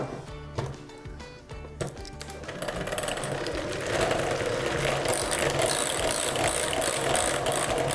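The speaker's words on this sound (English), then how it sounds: "Next, we need to mix this on a high speed until it's light and fluffy." Electric mixer beating about 150 grams of butter on high speed in a home baking setting, a steady whirring motor drone that starts rougher and settles into a continuous loud buzz with faint clattering.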